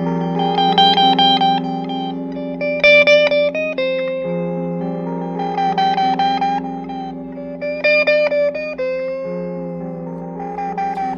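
Electric guitar run through a Strymon delay pedal on its lo-fi setting with a long delay time, phrases of chords and notes repeating in murky, degraded echoes that layer over a sustained tone, steady and loud with no talk.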